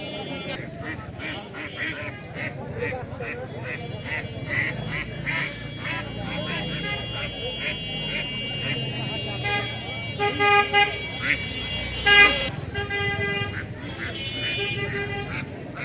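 Local ducks quack repeatedly amid a busy outdoor duck and chicken market in Tahirpur, Rajshahi, mixed with people talking and occasional vehicle horns.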